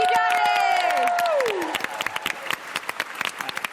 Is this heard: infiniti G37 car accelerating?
no